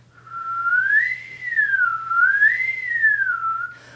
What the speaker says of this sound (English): if you can whistle, you can try.